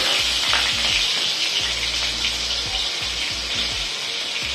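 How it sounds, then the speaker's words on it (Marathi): Cumin seeds sizzle in hot oil in a pan, giving a steady, loud, close hiss and crackle that runs the whole time with no talking. "आपण इथे मी तेल टाकलेलं आहे। आता जिरं टाकायचं,"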